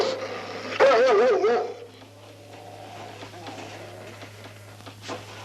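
Dogs whine and yelp in a house during a 1978 feature-film scene: a loud, wavering whimper for about a second, then fainter yips and shuffling under low background hum and speech-like murmur.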